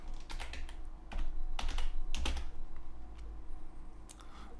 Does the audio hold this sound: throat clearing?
no